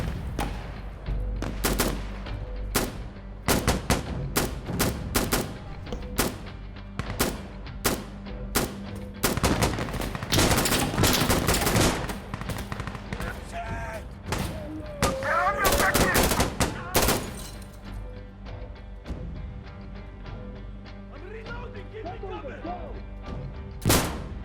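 Gunfire in the video game Insurgency: Sandstorm on Xbox Series X/S, loud dense bursts of rifle and machine-gun shots in rapid, irregular volleys with brief gaps, with a voice talking in between.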